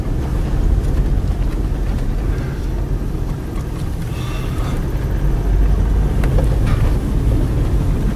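A car revving and accelerating during a driving lesson, a steady loud engine and road rumble over a low drone that swells slightly toward the end, with wind buffeting and no talk.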